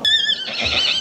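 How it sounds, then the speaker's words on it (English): A donkey at a second-hand market in Ruma in the Balkans brays loudly and close by, a short harmonic call followed by a rough, breathy tail. "Donkey."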